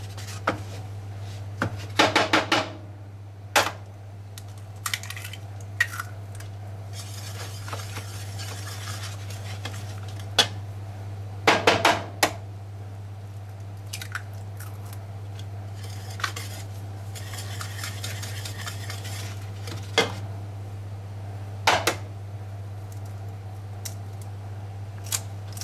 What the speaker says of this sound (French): On va mélanger les œufs un par un.